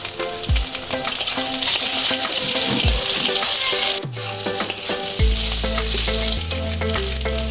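Pre-fried chite crab is stirred in a hot pan, a loud close sizzle broken by repeated scraping strokes and light clinks of utensil against metal.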